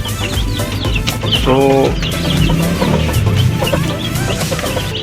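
A merawang mother hen clucks and calls inside a brooding coop, loud and close, with bursts of fowl sounds over a busy barnyard background and a brief human utterance.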